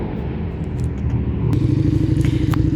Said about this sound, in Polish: Pojechał sobie motocyklista, prawdziwy motocyklista na takim dobrym motorze, naprawdę dobrym motorze